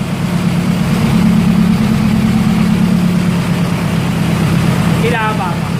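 Car engine fitted in a motorcycle idling steadily with a cylinder deactivation system, a loud, close, low rumbling hum that holds even throughout, with a brief higher whine near the end.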